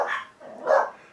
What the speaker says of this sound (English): oh yeah, you're allowed dogs in this rest home.